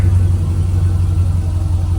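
A 1972 Chevy K5 Blazer CST engine idles with a steady, loud low rumble, with slight swells as the throttle is blipped, close by and alone.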